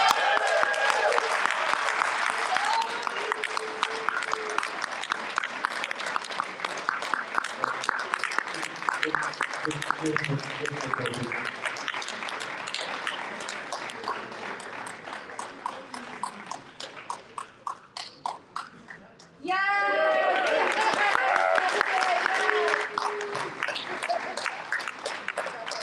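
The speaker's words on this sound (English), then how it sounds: "if we could have an even larger round of applause to welcome our new world champion from Australia" Applause welcomes the new Australian world champion at the 2023 WESPA Scrabble Championship finals, a sustained clatter of many hands that thins out before swelling loud again, with an announcer's voice over it.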